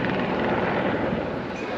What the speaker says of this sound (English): there's the helicopter on his way off